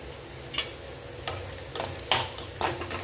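Bitter gourd fries in a pan with a low continuous sizzle, broken by about five sharp scraping stirs of a spoon at uneven intervals, close and alone.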